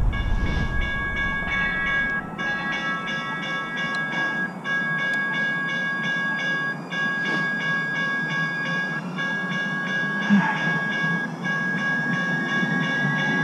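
A train passes close by a waiting cyclist, with a steady rumble and sustained tonal ringing throughout, punctuated by faint clatters and a short louder knock.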